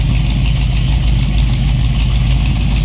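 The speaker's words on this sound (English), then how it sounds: "A little rumble coming out of that big block." A 1968 Chevrolet Camaro with a big block engine idles with a loud, steady low rumble, close and continuous with no other sounds.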